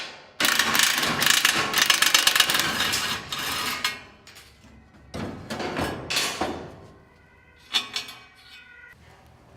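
Ratchet wrench loosening bolts on the platform of a TWIN BUSCH TW 436 P park lift during assembly, a run of dense clicking bursts followed by shorter separate ratcheting spells, close and fairly loud with no talk.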